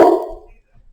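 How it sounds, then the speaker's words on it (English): A single short dog bark sounds close and loud, then quickly fades into quiet room noise. "I don't know who she's barking at."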